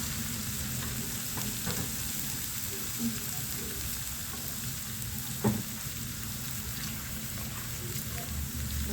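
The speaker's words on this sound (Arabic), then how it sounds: "هنزل بمعلقه كده من الكزبره تحمر كده معايا" Garlic and coriander fry in ghee with a steady, close sizzle and faint stirring scrapes throughout.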